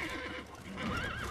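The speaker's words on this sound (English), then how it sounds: "Rauschert, get the horses" A horse in the video game The Witcher 3: Blood and Wine neighs in a wavering whinny over rumbling game ambience and faint hoof sounds, fairly close and at moderate loudness.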